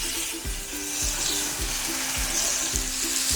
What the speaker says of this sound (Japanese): 今からヤドロキッチンでステーキを焼いていこうと思います